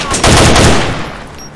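Gunfire in the survival video game DayZ: a rapid burst of loud, close shots fired together, fading into a brief reverberant tail.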